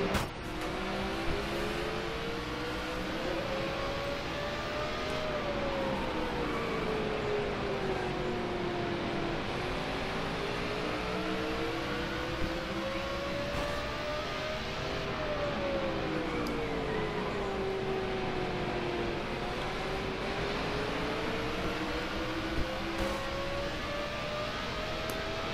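Stock car engines in the video game NASCAR 15, Goody's Fast Relief 500, drone steadily for the whole stretch, pitch rising and falling in long smooth sweeps as the cars cycle through laps, loud and continuous.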